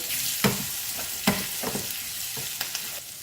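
Small onions, asafoetida and curry leaves frying in hot oil for tempering, sizzling steadily with a few sharp crackles and pops, close by with no voices.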